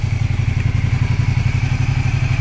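A big street motorcycle, a BMW S1000 XR or Ducati 1200 Multistrada touring bike, runs close by with a loud, rapid rhythmic engine throb that stays steady throughout.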